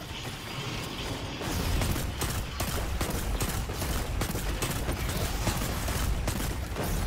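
Gunfire in a video game rattles in dense, continuous rapid bursts with mechanical clatter, loud and steady throughout, with no clear talk.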